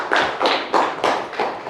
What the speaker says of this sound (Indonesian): Tepuk tangan dulu untuk Bilkis sebelumnya.